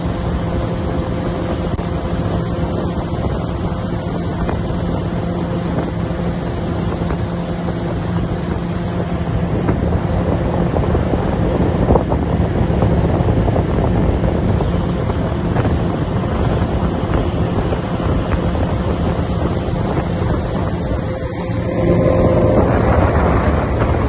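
A boat ride on Upper Lake (Bhojtal) in Bhopal, with a continuous loud roar of engine, water and heavy wind buffeting the microphone that holds steady throughout with no clear pauses.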